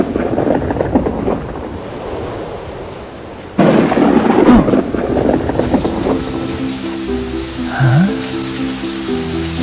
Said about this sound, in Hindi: तभी अचानक बारिश आ गई